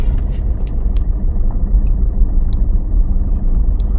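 Car cabin during a driving lesson, a low steady engine and road rumble with faint clicks and rattles on top, continuous and close, no talk.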